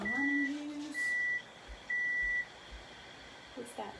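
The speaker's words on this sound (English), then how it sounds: "What's that? What's beeping?" An electronic beep sounds three times in even, sustained tones in a home kitchen, followed by a quiet room with faint background noise.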